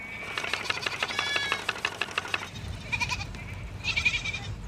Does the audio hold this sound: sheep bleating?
yes